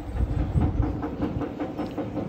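A train crossing the Luís I bridge in Porto rumbles by with a steady rhythmic clatter of wheels on rails, close and fairly loud throughout.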